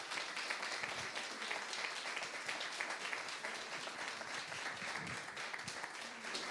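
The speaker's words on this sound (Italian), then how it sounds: "l'applauso ci sta." Audience applause at an Italian book presentation, a steady wash of many hands clapping at moderate distance that carries on for several seconds without letting up.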